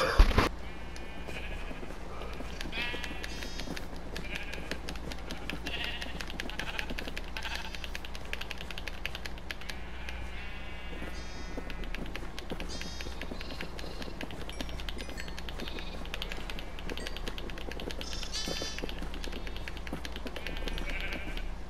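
Repeated sheep bleats during sheep breeding in a video game, short calls recurring every few seconds over a constant low background hum, with no talking.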